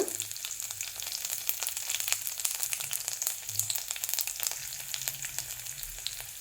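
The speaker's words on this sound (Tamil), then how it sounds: "இப்போ ஜீரகம் போடுறேன். பூண்டு," Cumin seeds and garlic hit hot oil for a raw banana dal curry, crackling and sizzling loudly and continuously with sharp popping bursts, nearby and alone.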